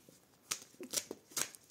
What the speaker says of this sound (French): donc on va les mélanger un petit peu